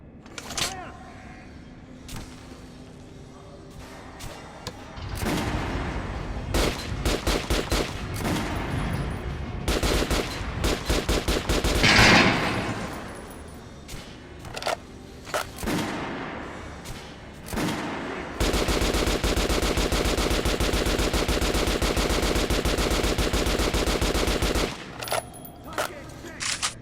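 Rapid bursts of gunfire in the Metro: Last Light Redux video game, loud and dense, with volleys and sustained automatic firing stretching across the range, sometimes overlapping shouted commands.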